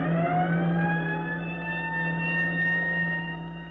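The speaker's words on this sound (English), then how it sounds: "the siren on the roof of the firehouse roars its warning" A fire siren on a firehouse roof wails in a long, steady tone that slowly falls in pitch and fades at the end, with no voices over it.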